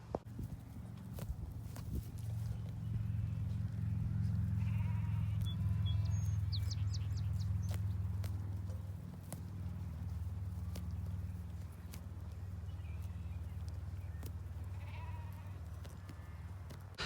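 Ram lambs on a dairy sheep farm bleat intermittently over a steady low rumble, with occasional hoof or footstep clatter in the background.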